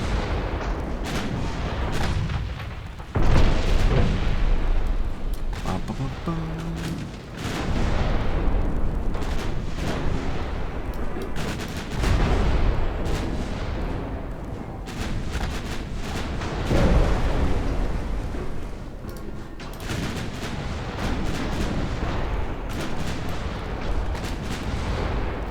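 Naval gunfire and torpedo hits from the warship game Ultimate Admiral Dreadnoughts, with dense, continuous rumbling booms and repeated heavy blasts rolling over one another throughout, loud and without talk.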